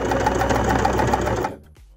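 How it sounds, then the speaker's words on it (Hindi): A sewing machine runs steadily at close range while stitching a hook and eye, its whirring motor and rapid needle action loud and continuous, then it stops abruptly at about one and a half seconds and a faint handling noise follows. "अब हम मशीन को चला लेंगे।"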